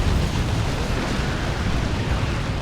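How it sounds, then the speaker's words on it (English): In Warhammer 40,000: Dawn of War 2, cannon fire and explosions from a battle merge into a dense, continuous roar that stays loud and unbroken throughout. "Stranglethorn Cannon doing some good work."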